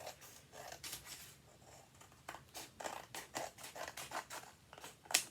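Scissors snip through paper in a quick series of crisp cuts, close and fairly quiet, during a children's craft project making a blue dog cutout, with a brief sharper snip at the end.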